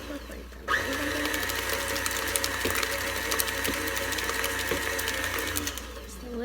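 A stand mixer whirs steadily while mixing banana and squash bread batter, a continuous buzzing motor hum with small clicks and knocks, starting abruptly and running throughout, while a person talks over it.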